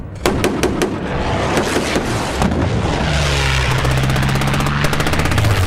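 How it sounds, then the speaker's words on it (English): British warplanes attack a retreating German column in a World War II film scene near El Alamein: sharp, loud gunfire bursts rattle early, then a heavy droning engine roar and dense rumbling fill the rest, with no talking. "then the column is attacked by British warplanes"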